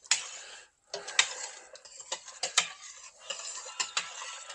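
Food stirred in a pot: a spoon scraping and ticking against the pot in quick irregular strokes, close and fairly soft, with a brief pause early on.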